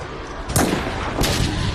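Gunfire rings out in an anime battle. Two heavy shots crack about 0.7 seconds apart over a loud, constant roar of combat, with no voices.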